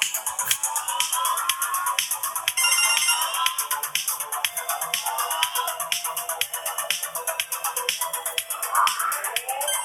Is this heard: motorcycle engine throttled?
no